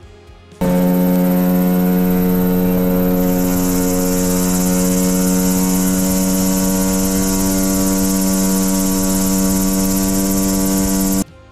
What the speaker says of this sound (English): Another moment of aviation is on the Mosquito Air helicopter.